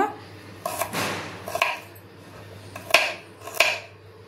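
Carrot, potato, tomato and onion are finely chopped for a green peas chaat, giving a handful of sharp knife taps on a board at an uneven pace, close and fairly quiet.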